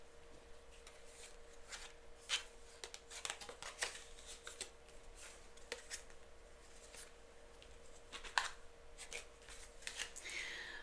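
Tarot cards are shuffled and handled at close range, with a quiet, irregular series of soft riffling and sliding bursts over a faint steady hum.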